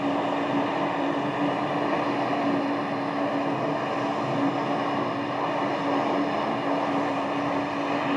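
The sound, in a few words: airplane rolling for takeoff at Scottsdale airport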